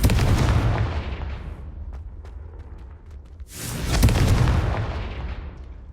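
Confringo fire spell cast in Hogwarts Legacy, a loud booming blast with a sharp whoosh, one burst fading out and a second powerful explosion following about halfway through, with no voices over it.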